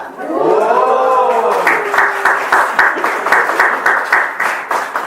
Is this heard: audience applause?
yes